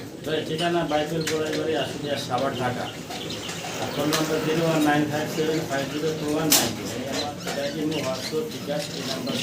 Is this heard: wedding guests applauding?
no